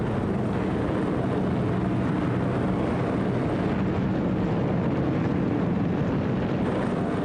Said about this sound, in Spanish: Más de 1000 aviones despegaron hacia la ciudad alemana de Colonia.